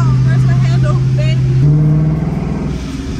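Loud race car engine with a blow-off valve and ProCharger supercharger, a steady droning tone from inside the car that shifts pitch midway, with voices talking over it.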